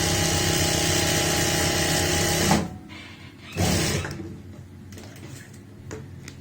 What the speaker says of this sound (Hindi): जहां से हमने सिलाई की शुरुआत की थी वहीं पे सिलाई को पूरा करते हैं।